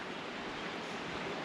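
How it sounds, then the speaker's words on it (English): Steady, dense rushing of water over a dam spillway at Yellow Creek State Park, a broad roar, constant and unbroken with no voices. "I can hear the water moving from here"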